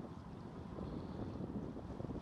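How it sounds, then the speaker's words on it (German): Stiff afternoon breeze buffets a camera on a tripod at a lookout over the Öresund strait and bridge near Malmö, a steady low rumbling roar of wind against the microphone with no voices. "An diesem Nachmittag herrschte eine steife Brise. Der Wind spielte mit der Kamera auf dem Stativ."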